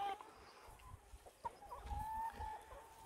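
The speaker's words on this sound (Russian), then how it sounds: "Вот так наши курочки живут на травке." Pastured hens clucking softly in the distance on grass, with a few sharper calls, over a quiet outdoor background.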